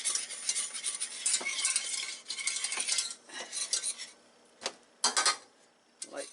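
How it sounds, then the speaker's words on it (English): A whisk works all-purpose flour into melted butter in a pan for a cheese soufflé, giving bursts of quick, close metallic scraping and clinking that pause and restart, with no speech. "To that 3 tablespoons of melted butter, we add 3 tablespoons of all-purpose flour and whisk that in"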